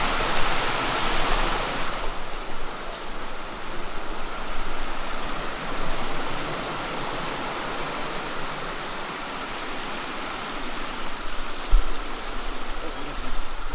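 A waterfall in Bankhead National Forest rushes in a constant broadband roar, loud and close throughout, with occasional voices faintly beneath it.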